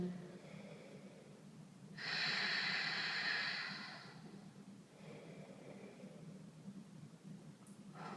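A long, audible breath out during a yoga lizard pose rises to a steady airy rush for about two seconds, followed by a fainter second breath, close and quiet.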